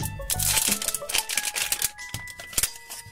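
Zipper unzipped on an LOL Surprise Series 3 toy ball, a close rapid rasping of zipper teeth in quick bursts with a few crinkly plastic rustles.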